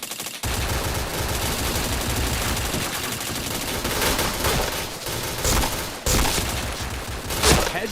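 Rapid automatic gunfire rattles almost nonstop in the shooter game Point Blank, dense and loud with brief breaks and a few heavier bursts.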